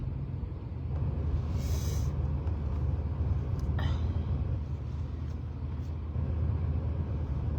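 Steady low road rumble and engine hum inside a moving car, continuous and moderately loud, with a few faint brief clicks and no clear talking.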